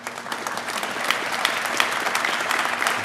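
Audience applause at a regional fire academy graduation ceremony, a steady, dense clapping from a large crowd that holds evenly throughout without a break.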